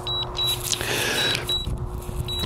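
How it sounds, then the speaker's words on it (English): Short high electronic beeps from a DJI Mavic Mini drone controller repeat in a steady pattern over a constant whirring hum, with a soft background noise throughout. "that's enough of that blasted beeping"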